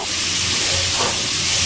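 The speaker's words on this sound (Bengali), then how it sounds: "এবার নাড়াচাড়া করে সবজিগুলো একটু ভেজে নিচ্ছি" Mixed vegetables with chopped carrots stir-frying in a pan for fried rice, a loud, steady, close sizzling hiss with no break.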